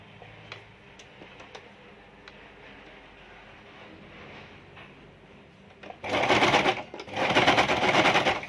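A sewing machine stitches elastic onto a homemade fabric mask, running in two loud, fast rattling bursts after a quiet stretch of faint ticking.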